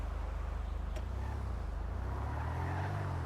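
Dominator muscle car driving in GTA V on the NoPixel server, a low steady engine drone with a throbbing pulse that builds slightly toward the end.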